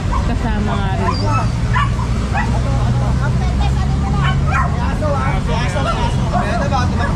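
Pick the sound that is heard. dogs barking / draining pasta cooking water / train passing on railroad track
dogs barking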